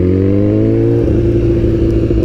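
A BMW S1000RR sport motorcycle's engine runs close by on a test ride, a loud, smooth, steady drone whose pitch sags slightly and then holds level.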